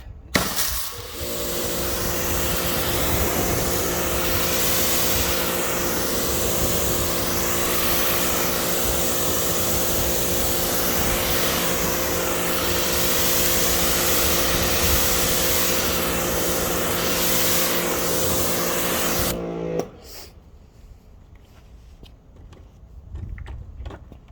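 A pressure washer or hose sprays a steady, loud rinse of water over a car after a wash with Rain X Ceramix foaming wash and wax, with a constant motor hum under the spray. It cuts off near the end, leaving quieter background.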